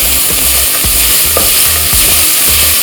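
Vegetables sauté with a pinch of salt in a pressure cooker pot, loud close sizzling under repeated rhythmic scrapes and knocks of a stirring spoon against the metal, no voices.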